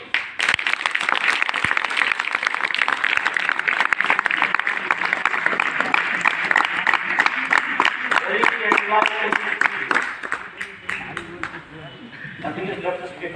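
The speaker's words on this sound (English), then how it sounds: "I must clap for the children." An audience claps for the children at a Women's Day celebration at K.V. Kalaburagi with loud, sustained applause. Near the end it thins into a few scattered, separate claps.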